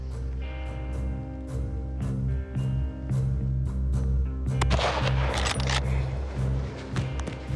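One sharp rifle shot fired at a stag during a hunt cracks out over a steady low drone, followed by a brief, noisy aftermath.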